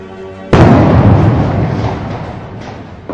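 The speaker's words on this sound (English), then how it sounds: "when guncotton had been compacted, confined in that plastic bottle, it detonated" A 15 g charge of compacted guncotton confined in a plastic bottle detonates against a 70 kg concrete block: one sudden, loud, close blast that rolls into a long decaying rumble over about three seconds.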